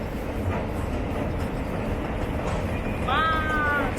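A Paris metro train rumbles along in a loud, steady roar, then a high metallic wheel squeal rises near the end.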